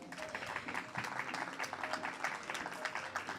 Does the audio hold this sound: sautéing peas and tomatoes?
no